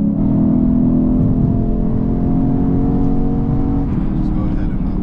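Hard acceleration from a 2023 Lexus IS 500 F Sport, a loud steady engine drone that builds and holds from inside the car, with people talking over it.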